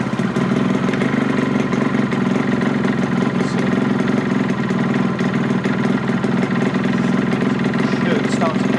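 An inexpensive road-legal motorcycle engine idling on choke, a loud steady rumbling idle with an even pulsing beat, while a person talks over it.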